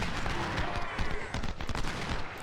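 Artillery guns firing in a Stones River battle video game, a dense continuous barrage of overlapping cannon and musket shots, loud and close.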